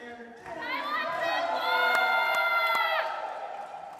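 Crowd cheering and shouting at a professional pickleball championship court on the Gold Coast, a loud swell of voices with high calls and whistles that builds over a few seconds before tapering off.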